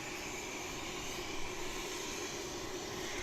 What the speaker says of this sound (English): the -8 that we can see the tail of right here is starting up its engines